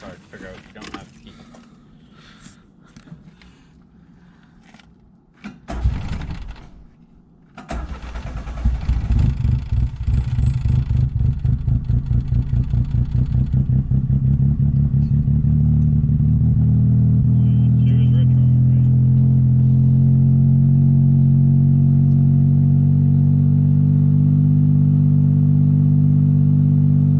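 A Honda VT motorcycle engine that is not running right is started after a few clunks and attempts. It settles into a loud, close, throbbing idle that holds steady, with a person speaking briefly near the start.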